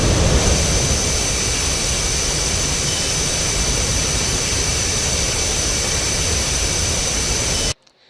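F-15 twin jet engines in DCS World, a loud steady roar with broadband hiss and a faint high whine that holds without change for nearly eight seconds, then cuts off abruptly into silence.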